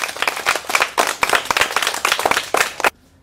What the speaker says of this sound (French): applaudissez très fort pour lui-même